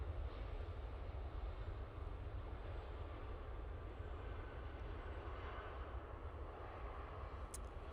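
An Airbus A320 airliner at Manchester Airport gives a steady, continuous engine roar with a deep low rumble that holds at an even level throughout, heard alone without voices.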